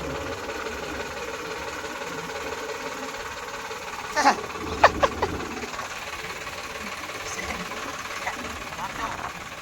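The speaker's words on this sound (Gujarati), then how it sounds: "જો આ આપણું ટ્રેક્ટર હે, અત્યારે ચાલુ હે." A tractor engine idles low and steady in the background with a faint rumbling hum, punctuated by a few brief metallic clicks and knocks near the middle; no speech is heard.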